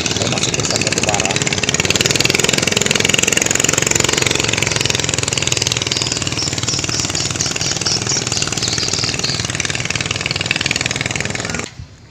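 Engine of a tinting motorboat ferrying workers at Teluk Bayur, a loud, continuous puttering drone close by that holds steady for most of the stretch before cutting off abruptly at the end, with voices talking over it.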